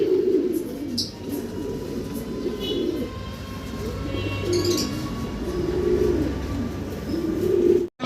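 A pair of cream bar Chinese Owl pigeons coo in soft, low, repeated murmurs at a pigeon seller's, with faint chirps from other birds in the background and someone talking over them.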